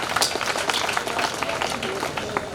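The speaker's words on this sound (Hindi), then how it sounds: "एक बार ताली बजाइए प्लीज।" An audience at an open-air village fair poetry gathering claps in a dense, continuous burst, the many hands blending into a loud, even wash with faint crowd murmur underneath.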